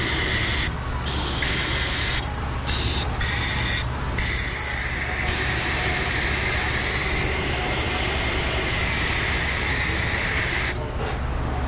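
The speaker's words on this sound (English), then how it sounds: "I'm gonna blow this vent with some bunch of air, make sure that's clear and clean" Compressed air blasts through the axle vent of a Ford Mustang, a loud, continuous close hiss with a few brief gaps where the airflow stops and restarts.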